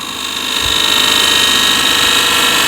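A shear scraper cuts into wood, throwing off shavings, against a loud, even machine hum with a continuous hissing scrape that holds steady and close throughout.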